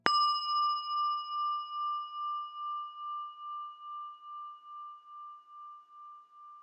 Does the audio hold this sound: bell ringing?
yes